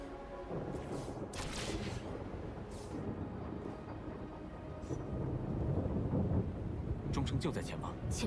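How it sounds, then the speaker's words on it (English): Steady rain in the video game Wuthering Waves hisses across the whole stretch with low rumbling underneath and a few sharper splashes, while someone talks over it. "Look how nice the rain freaking looks on the ground."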